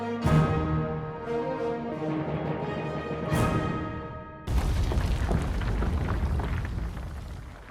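Antique Old West firearms fire two sharp, loud booms that ring out with long decaying tails, then a harsher blast follows with a rough, sustained rumble, close and powerful, no talking.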